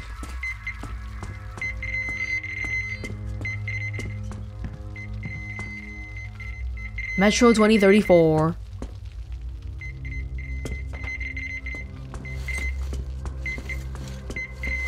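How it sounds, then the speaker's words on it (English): A resource detector in the video game Metro Exodus keeps up steady, repeating high beeps in short regular bursts beneath game ambience, while someone talks over it and a louder sound briefly cuts in midway. "I think it beeps even though the resources are really far away, which is why it's so constant."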